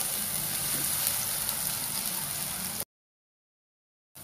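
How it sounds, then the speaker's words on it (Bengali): Ginger garlic paste frying in a pan for spiced chickpeas, a steady close sizzle that runs for nearly three seconds and then cuts to silence before briefly returning. "আদা রসুন পেস্টটা আমি একটু ভাজে নেবো"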